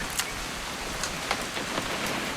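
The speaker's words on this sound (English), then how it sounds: "It's gonna rain the whole weekend, isn't it?" Steady rain falls in the video game What Remains of Edith Finch, a constant hiss with a few brief louder drops standing out, no voices.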